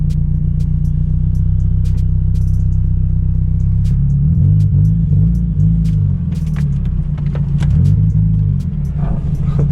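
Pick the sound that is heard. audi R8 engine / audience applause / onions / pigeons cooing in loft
audi R8 engine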